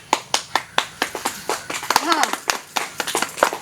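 Wedding guests clap in sharp, uneven bursts close by, the claps spaced irregularly across the moment while people talk and call out over them.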